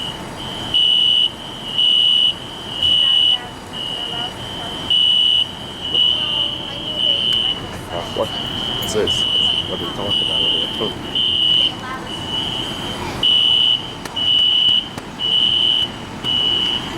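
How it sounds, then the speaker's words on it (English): A fire alarm sounds repeatedly in a steady on-off pattern of loud, shrill beeps throughout, with people talking over it. "You just gotta focus at the fire alarm?"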